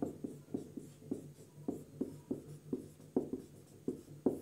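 Chalk or marker writing on a classroom board during a class 12 physics lesson on magnetism, a steady run of quick tapping and scratching strokes, close and fairly quiet, with no talking.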